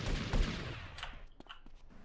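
Gunfire in GTA Vice City: a dense burst of shots at the start, then scattered sharper single cracks trailing off, fairly loud with no talking.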